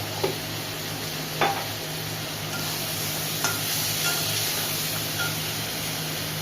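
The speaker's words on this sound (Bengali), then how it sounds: "এই মশলাটা প্রায় 5 মিনিট মতো কষে দিতে হবে।" Spice mix with salted tomatoes sautés in a pan for a rohu fish head and moong dal dish, an even close hiss with occasional light clicks of a spatula.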